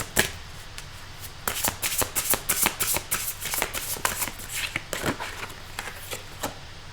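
A deck of oracle cards is shuffled by hand, giving a close run of rapid papery riffles and flicks in uneven bursts over a quiet room.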